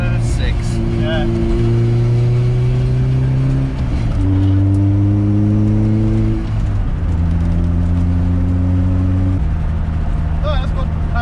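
A Honda CRX fitted with a new exhaust accelerates hard through several gears, its tone climbing and dropping at each shift, loud and close, with people talking over it.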